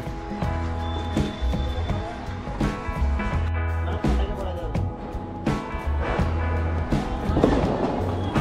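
Sharp firecracker bangs burst irregularly over a dense, continuous crackle and low rumble at Diwali, loud and close throughout.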